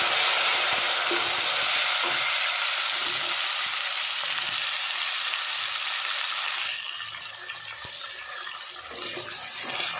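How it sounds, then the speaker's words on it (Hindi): Tomatoes go into golden brown onions frying in a pan, giving a loud continuous sizzle that softens and drops in level partway through, with faint stirring clinks and no talk. "यहाँ पर प्याज जो है वो गोल्डन ब्राउन हो गया, तो इसमें टमाटर ऐड कर देंगे"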